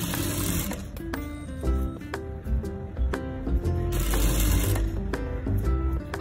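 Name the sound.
sewing machine stitching canvas strip on a blouse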